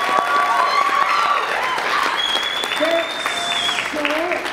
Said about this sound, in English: Can you give another round of applause for Corey, our conchair, please?